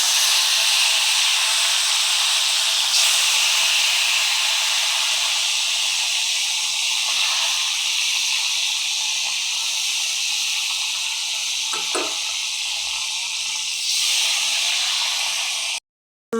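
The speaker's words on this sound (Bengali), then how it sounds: "গরম হয়ে গেছে, এখন মাছটি দিয়ে দেবো তাহলে।" Rohu fish fries in a hot wok with a loud, constant hissing sizzle that runs unbroken for the whole stretch, close up and alone with no voices.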